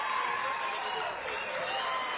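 Clapping from a gym crowd at a girls' high school championship game, a steady wash of hands filling the whole stretch at moderate level, with some voices mixed in.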